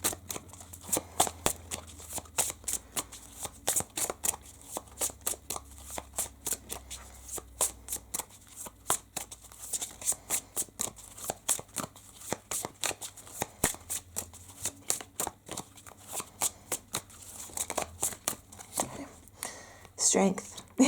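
Oracle cards are shuffled by hand in a long run of quick, crisp riffling and tapping bursts, close and fairly quiet, with a voice speaking between them.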